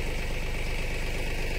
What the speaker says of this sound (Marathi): ट्रॅक्टर महिंद्रा ओजा हे तुम्ही पाहू शकता 2130 HP चे ट्रॅक्टर आहे महिंद्रा ओजा।